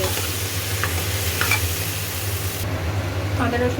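Ginger-garlic paste sizzles in a hot pan for a chicken curry and is stirred now and then, making a steady close hiss with occasional scraping strokes and no talking.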